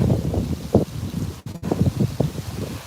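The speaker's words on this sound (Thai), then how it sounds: "ลมแรงแรง" Strong wind gusts blowing outdoors in Denmark, a loud continuous rushing that buffets the microphone in uneven surges, with one brief dropout midway.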